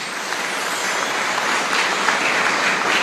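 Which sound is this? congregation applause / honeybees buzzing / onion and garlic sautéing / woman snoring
congregation applause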